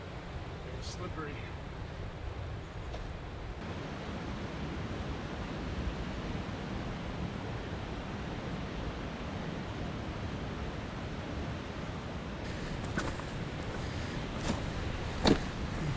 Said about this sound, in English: The sound of the ocean is always there.